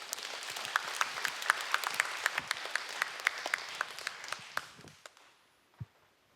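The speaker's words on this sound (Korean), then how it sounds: "우리 큰 박수로 모시겠습니다" Audience applause in a church youth worship service, a dense patter of many hands clapping at close range that thins out and fades to near silence near the end.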